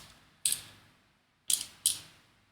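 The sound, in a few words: driving 2.3 by 6 mm screws into a model kit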